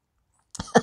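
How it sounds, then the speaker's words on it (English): A person coughing after exercise: after a short silence come two or three close, brief, dry coughs, the last one loudest. "And, so I'm coughing a little bit."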